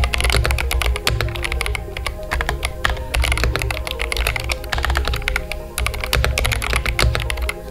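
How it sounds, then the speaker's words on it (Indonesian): Continuous rapid typing on a Womier M68 HE 68% rapid-trigger magnetic keyboard, a dense stream of close, crisp keystroke clacks with occasional louder thocks, steady throughout with no voices. "coba kita dengar dulu suara typing testnya"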